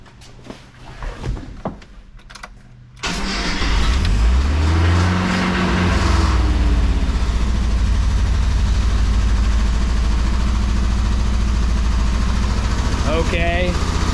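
A 1986 Mazda B2000 engine fitted with a swapped-in Weber carburetor catches and settles into a loud, steady high idle that drones on unbroken, with brief voices and rustling before it starts.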